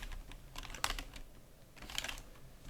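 Soft typing on a computer keyboard, a quiet close patter of keystrokes with two sharper bursts of clicks, heard alone with no talk.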